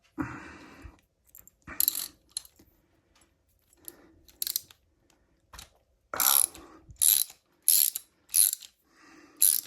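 A ratchet wrench loosening a bolt on a 2000 Dodge Neon engine during a timing and cylinder head rebuild, giving repeated close, sharp clicking bursts in uneven strokes with short pauses between them.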